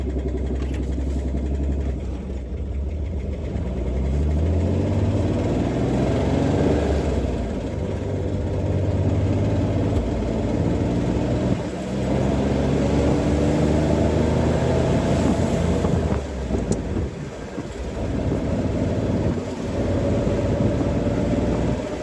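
A 1966 Corvair engine idles steadily with a slight miss, a loud close rumble that holds for the whole stretch with small dips in its rhythm, and no one talks.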